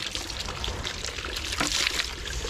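Water sprays over a new motorbike and its tyres during a wash, making a steady hissing splash with no clear breaks.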